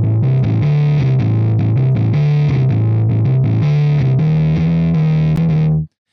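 A synthesizer played through a guitar amp on a high-gain preset, producing heavily distorted, buzzing sustained notes with shifting pitches and choppy rhythmic stabs that stop abruptly near the end.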